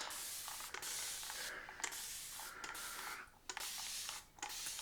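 Water is sprayed from a bottle onto a head and face before a shave, in several sharp hissing bursts separated by brief pauses, close-up with no voices.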